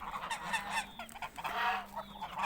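Geese on a farm honk repeatedly in a close, noisy chorus of overlapping nasal calls, loud and continuous throughout.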